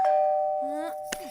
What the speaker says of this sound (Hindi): दरवाजे की घंटी बजी है।